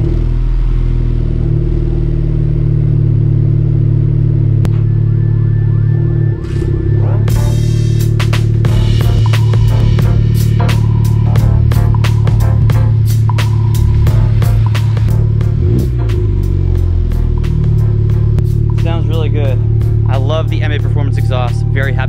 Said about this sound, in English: let's get that cold start